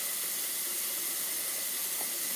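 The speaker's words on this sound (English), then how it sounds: "and then start with your blow dry." A continuous airy hiss of a hair dryer blowing steadily nearby while drying a cat, unchanging throughout with no talking.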